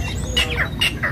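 Songbirds chirp in quick bursts at a crowded bird market kiosk in Pasar Burung Patra, several sharp calls repeating close by over a steady low background din.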